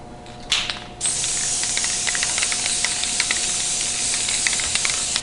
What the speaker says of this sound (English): We're going to spray that up a little bit.